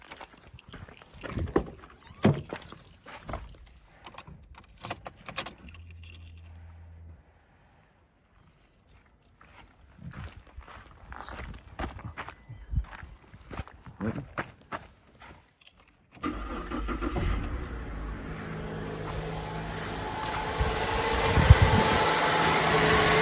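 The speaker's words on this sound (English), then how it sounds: "I want to start the engine now." A Holden Alloytech V6 with a failed cooling system is cranked and started after some mechanical clatter and a near-silent pause, then settles into a steady, moderately loud idle.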